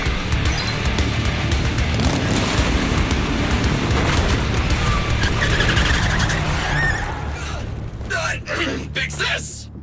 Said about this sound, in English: Let's go back to the car and get out of here.